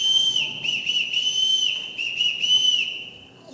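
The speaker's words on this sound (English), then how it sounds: "They have been taught to only come when they hear their whistle." A shrill whistle is blown to summon children on a family estate, sounding in several long, steady blasts with short breaks between them, loud and close with no talk over it.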